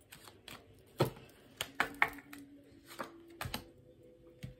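Tarot cards are shuffled in short bursts of sharp, close riffling and tapping, with uneven gaps between the snaps.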